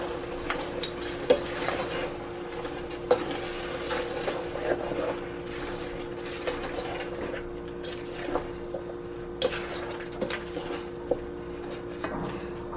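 Okro soup being stirred in a cooking pot, with steady scraping and sloshing, a few light clinks of the utensil against the pot, and a constant low hum in the background; no voices.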